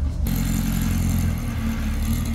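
Brubaker Box car driven off a trailer into the Petersen Museum, a loud, close, steady engine rumble with a low hum throughout and no voices.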